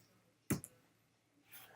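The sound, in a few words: computer mouse click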